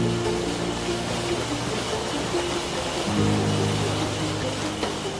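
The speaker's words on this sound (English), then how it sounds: "Waterfalls, springs and creeks, at each blink of the eye." A waterfall in the Peruvian jungle gives a constant broadband rush, like dense falling water, with faint tonal sounds layered over the steady roar.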